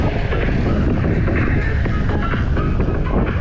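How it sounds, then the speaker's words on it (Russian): Strong headwind roars across the microphone during a summer drive on the Crimean coast, a loud continuous buffeting rush with no pauses. "Встречный ветер фигачит и все."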